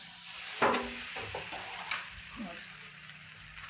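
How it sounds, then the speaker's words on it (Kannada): Holige, a toor dal stuffed flatbread, laid on an oiled hot griddle gives a soft crackling sizzle with a brief louder onset, continuing steadily at close range. "ಈಗ ಹೋಳಿಗೆ ಹಾಕೋತೀನಿ"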